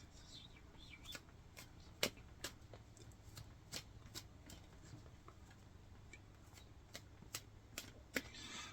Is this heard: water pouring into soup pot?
no